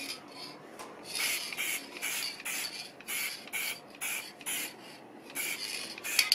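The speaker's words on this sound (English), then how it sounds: "So I'm giving it just a quick spray and a very light one." Krylon spray sealer is misted lightly over a stamped card in quick, soft hissing bursts, about a dozen short sprays in steady rhythm, close by and fairly quiet, with no talking.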